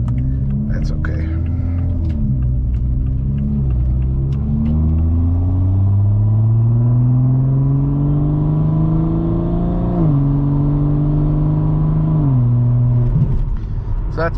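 A 2021 Toyota Supra with a muffler delete and downpipe pulls hard through the gears, its deep exhaust drone rising in pitch and then dropping at each shift, loud and close from inside the cabin, with faint talk early on.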